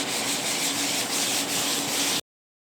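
Sanding paint on a Porsche 928 pod, a steady, fairly loud rubbing rasp with faint rhythmic strokes, heard alone with no talk, ending abruptly.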